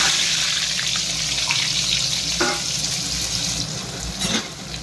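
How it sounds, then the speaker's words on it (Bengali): Potatoes fry in oil in a pan for an egg and pea curry, giving a steady, close hiss of bubbling oil throughout with a few faint clinks, and no voices. "এখন আমি এই আলুগুলো ভেজে নেব।"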